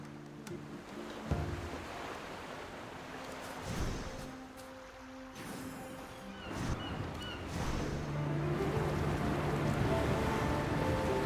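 A ship sails through thick fog at sea in the video game AFK Journey, with steady surf and rushing water under low tonal game music, building to a fuller wash of waves toward the end.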